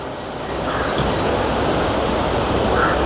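Water rushes downhill across the rocky Raireshwar plateau, a loud continuous broadband roar close to the microphone with some wind buffeting and no speech.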